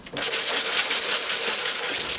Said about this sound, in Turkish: Yine 80 zımpara kullanarak macunu düzeltiyorum.